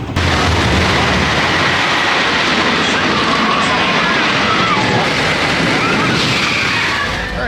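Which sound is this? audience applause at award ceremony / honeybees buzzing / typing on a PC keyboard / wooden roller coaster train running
wooden roller coaster train running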